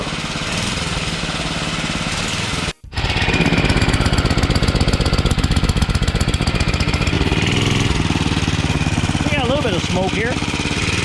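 A small gas mini bike engine running on diesel fuel cranks briefly, cuts out, then catches and runs with a rough, rapid, loud chugging idle close by, a bit uneven later on, while a voice speaks over it.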